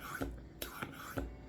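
A D2 steel knife blade is drawn across a sharpening stone in steady, evenly spaced rasping strokes, about four close, soft scrapes with no talk.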